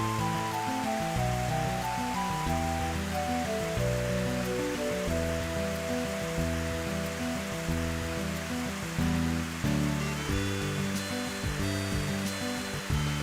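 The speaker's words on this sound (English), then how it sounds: "Listen to the rain noises." Steady rain ambience from the video game Rune Factory 3 hisses throughout, layered under a looping tonal background music track, with no speech.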